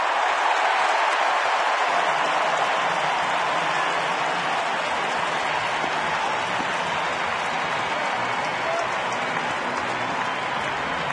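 A home baseball crowd in Minnesota roars and applauds after a leadoff triple against Detroit, a loud, steady, far-spread wall of cheering that holds for the whole stretch with no clear break.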